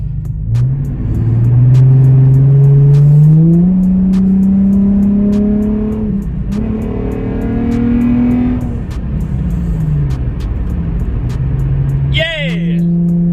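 A car engine revs hard several times, its roar climbing and falling in long sweeps with brief dips between pulls. The sound is loud and close, as if heard from inside the car, and a voice speaks briefly near the end.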